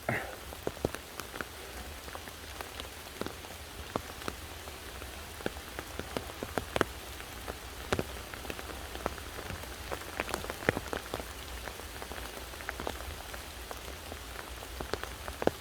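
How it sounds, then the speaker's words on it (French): Steady rain pattering on a surface, with frequent close drops hitting sharply over a constant wash of rainfall. "Et là je repars sous une pluie battante."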